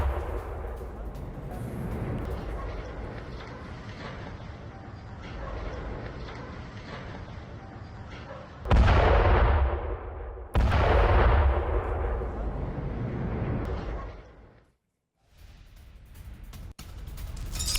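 Heavy explosions from Israeli strikes in southern Lebanon, loud and booming with rumbling roars and crackling debris, two big blasts around the middle, a brief silence near the end, then more rumble.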